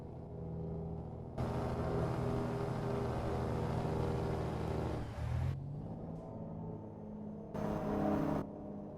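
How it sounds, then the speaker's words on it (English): A deep, rumbling truck Jake brake in American Truck Simulator, on a heavy-haul cabover truck, roars in long stretches, cutting out briefly and returning, loud and close with no talk. "Listen to that Jake brake, y'all."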